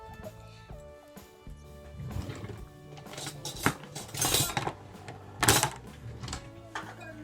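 Pomegranate seeds knocked out into a big bowl make repeated clattering, clinking knocks of irregular rhythm, close and moderately loud, with a few sharp louder strikes against the bowl.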